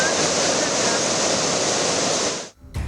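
Water gushes from the opened Mettur Dam as Kaveri floodwater surges through, a roaring, continuous torrent that fills the sound, then cuts off abruptly near the end.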